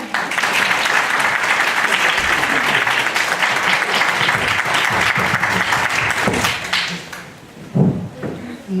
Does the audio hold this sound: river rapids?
no